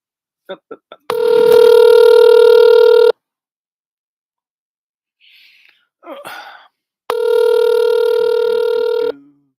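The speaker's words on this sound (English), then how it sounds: "Let's see if he answers the phone." Phone call ringing with two long, loud electronic ring tones separated by a pause, a few short clicks before the first and some brief vocal noise in the gap between rings.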